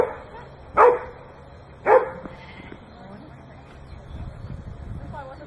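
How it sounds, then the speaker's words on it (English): A tracking dog gives two sharp, loud barks about a second apart at close range, followed by quieter background rustle and faint distant noise. "He's a tracking dog."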